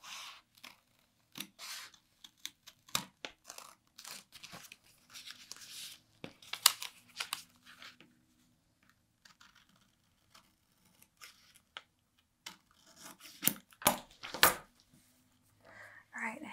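Scissors snipping through a paper sewing pattern to reshape a dart, close and crisp in short irregular bursts of cuts with quiet gaps between, mixed with paper rustling.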